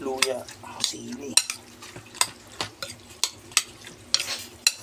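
Kilawin fish being stirred with onion, ginger and chili in a pan, a series of irregular scraping, clinking strokes of a utensil against the pot over a faint sizzle, close and fairly loud, with no talking.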